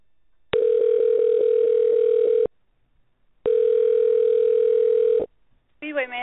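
Telephone dial tone before an outgoing call: two long steady tones, each about two seconds, separated by silence and followed by a brief voice.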